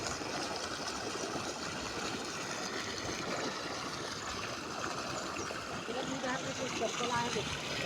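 Dirty water gushes steadily out through an opened gate on a river, a constant broad rushing wash at moderate level with no pauses.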